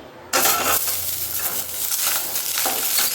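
Whole tomatoes fry for garlic tomato chutney, a steady loud sizzle bursting in abruptly and running continuously, with occasional scraping stirs in the pan over medium flame.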